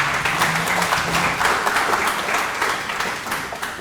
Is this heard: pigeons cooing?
no